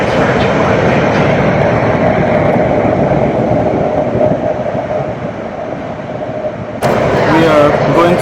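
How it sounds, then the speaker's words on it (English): A high-speed train, reportedly running at about 200 km/h, rushes through a long tunnel, a steady loud broadband roar of wheels and air that brightens sharply near the end, with a voice faintly present. "we are going through the tunnel now. Wow, it's going really fast."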